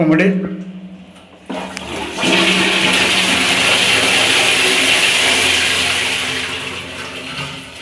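A toilet's flush tank is flushed during a bathroom fitting test, a loud rushing gush of water close by that holds strong for several seconds before tapering off, with a voice speaking beforehand.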